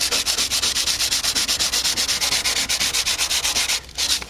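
Car bodywork is sanded by hand in quick, regular back-and-forth strokes, about five per second, close and loud, with a brief pause near the end before the rubbing resumes.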